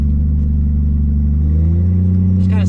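Turbocharged Lexus IS300 drag car with nitrous bottle on, idling with a loud, close, lumpy low rumble, then the engine note rises as it starts revving near the end.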